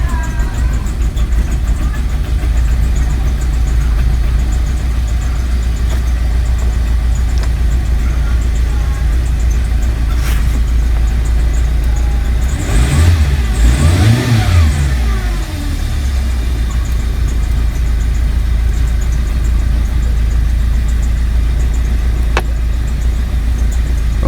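2018 Hyundai Accent engine running after a head gasket replacement: a continuous close idle hum with one rising and falling rev in the middle, steady and fairly loud.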